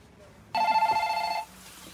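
A telephone rings once at a small salad shop, a bright electronic trill lasting about a second that rises sharply out of quiet shop background.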